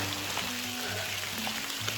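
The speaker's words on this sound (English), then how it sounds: "See, it's raining bad." Heavy rain falls at the Moidams of Charaideo in Assam, a soft, steady hiss of drops close by with no voices, fairly quiet throughout.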